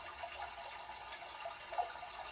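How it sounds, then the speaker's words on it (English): Water running steadily from a tap, a continuous soft rushing and splashing at moderate distance, fairly quiet and even throughout, with no speech. "You're focusing way too much on the moving water."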